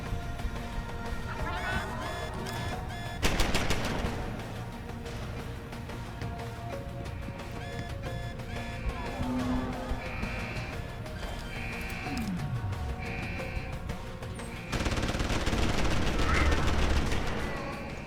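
An automated turret firing in the video game Deus Ex: Human Revolution, with loud rattling bursts of rapid gunfire breaking out twice over a steady background of game noise.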